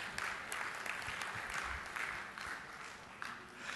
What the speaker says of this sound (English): This would be a good time to applaud.